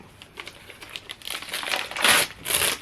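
A paper-wrapped book being unwrapped up close, with crinkling and tearing paper that starts in small rustles and builds into louder rips near the end, with no voices.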